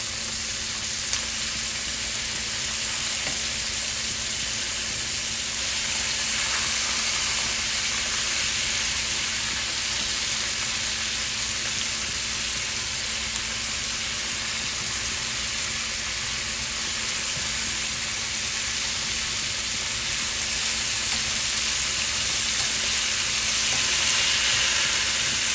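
Chicken wings for sweet chili wings sizzle steadily in hot oil in a pan, a dense, even frying hiss that runs unbroken and fairly loud throughout, with no voices.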